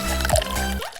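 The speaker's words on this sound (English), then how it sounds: "Now for the best part, filling the pools." Water poured into a toy Hello Kitty dollhouse swimming pool, a brief close splash and trickle lasting about a second.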